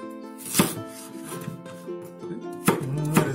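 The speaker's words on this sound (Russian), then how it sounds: "А сейчас мы порежем картошку брусочками соломкой." A knife cuts potatoes into thin strips on a board, with a few sharp, close chopping knocks spaced irregularly over quieter scraping and handling sounds.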